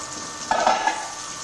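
Flour-dusted chicken cutlets sautéing in butter in a pan for chicken piccata, a steady sizzle with a short burst of stirring and scraping in the middle.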